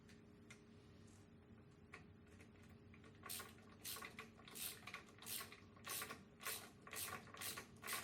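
A wrench ratchets stock fasteners tight on a gas tank adapter bracket of a 1986-2003 Harley-Davidson Sportster XL, starting with a few faint clicks, then a close, steady run of about ten rhythmic ratcheting strokes.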